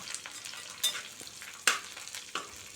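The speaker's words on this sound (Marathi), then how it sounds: "कोथिंबीरसुद्धा आपण तेलामध्ये परतून घेऊया" Coriander fries in hot oil, giving a faint, steady sizzle with occasional stirring clinks and scrapes, close by and quiet, with no talking.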